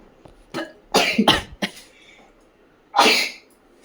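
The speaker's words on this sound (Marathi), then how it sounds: "आधी शिंका लागेल." Sneezing after sniffing sneezing powder indoors at home: a quick run of sharp, close sneezes, two back to back, then one more forceful sneeze after a short pause.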